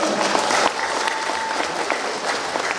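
A crowd at a college graduation ceremony applauds steadily, with moderately loud, dense clapping throughout and faint voices underneath.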